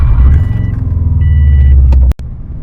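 A Subaru WRX drives along with a loud, low engine rumble heard from inside the car, steady for about two seconds before a sharp click and a brief dip.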